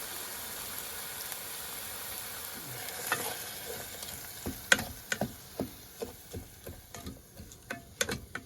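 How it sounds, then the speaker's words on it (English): Food sautéing in a pan at a campsite in the Grand Tetons of Wyoming: a steady sizzle at first, then a utensil clacks and scrapes against the pan in quick uneven taps, close up with no talking. "So we'll saute those up real nice."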